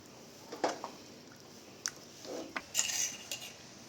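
Bombay halwa being stirred in a pan for a Diwali sweet, with scattered soft scrapes and clinks of a spoon against metal amid light squishy sounds, quiet and intermittent with no talking.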